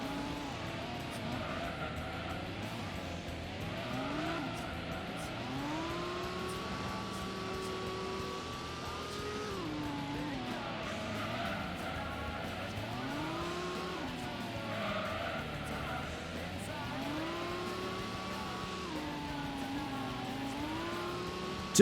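Race car in Gran Turismo sliding through the penultimate corner during the All Night II endurance race, its engine droning loud and steady with rising and falling revs as it corners, alone without talk.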